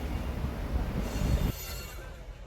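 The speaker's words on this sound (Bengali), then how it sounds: "বাংলাদেশে ট্রেন যাচ্ছে" A train crossing into Bangladesh at the Hili border rumbles loudly with steady wheel and carriage noise for about a second and a half, then drops to a quieter, more distant roll.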